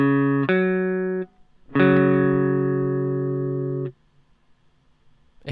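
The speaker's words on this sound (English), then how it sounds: "you'll hear both notes of the interval separately and then together" Two pitched notes of a musical interval for ear training sound one after the other, then ring together as a sustained chord, clean and steady with no talking.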